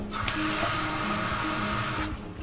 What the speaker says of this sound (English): I'm gonna add just a little bit more liquid into this, just about 200 milliliters of water.